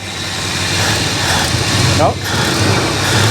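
A 1966 Ford Country Sedan's engine runs steadily, rough and shaking, with a continuous low hum close by; someone says a short word over it partway through.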